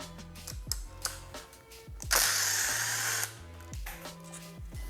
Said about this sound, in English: I'm gonna go ahead and remove that bolt first.